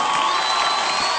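A crowd at a live show cheers and applauds in a continuous, dense roar with shouts and whoops, loud and sustained throughout.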